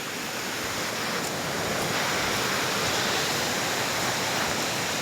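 A constant heavy roar of falling water from Ghonsari waterfall in Sindhudurg during the monsoon, loud and unbroken, with no voices over it.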